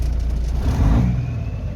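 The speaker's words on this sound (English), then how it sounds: "It revs up now on the throttle." A car engine with fuelling issues revs on the throttle, a loud close rumble that swells sharply in the middle and then eases back down, with no talk.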